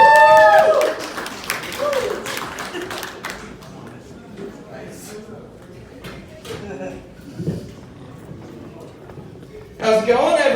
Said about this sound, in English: Please put your hands together for Eddie Cockrum